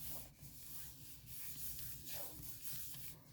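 Dry paper being rubbed down by hand onto a handmade get-well card, a soft continuous scuffing and brushing close up, steady for a few seconds with no talk.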